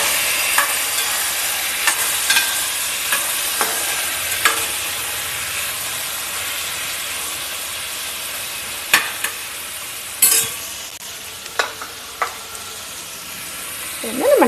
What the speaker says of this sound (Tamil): இப்படி வரிசையாக சேர்த்துட்டு ஒன்றா வதக்கிக்கலாம்